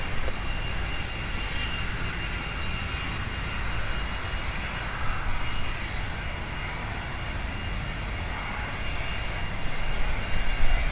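A Cessna 560 XL business jet lining up for departure at London City airport gives a steady, fairly distant engine roar that holds level throughout and swells slightly at the end, with no voices.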